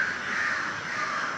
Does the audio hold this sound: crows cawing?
yes